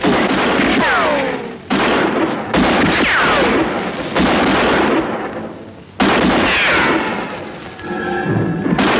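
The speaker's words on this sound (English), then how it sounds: "What are they shooting at us for?" Heavy gunfire and booming blasts from a 1958 film ring out in a series of about five loud reports, each with a rumbling, echoing decay, sounding close and forceful.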